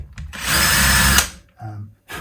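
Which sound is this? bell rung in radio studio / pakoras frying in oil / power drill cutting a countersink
power drill cutting a countersink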